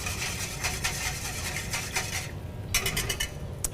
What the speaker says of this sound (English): We want to whisk this around.